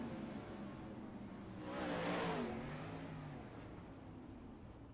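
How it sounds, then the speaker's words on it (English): 410 sprint cars racing in the iRacing sim game, engine drone holding steady with a louder rising pass in the middle before settling back, no talk. "trying to make that outside line work with the 410 sprint cars"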